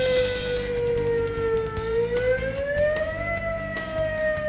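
An emergency warning siren gives a loud, sustained tone that dips in pitch, then rises and holds again, a wailing outdoor civil-defense sound heard close, with no voices.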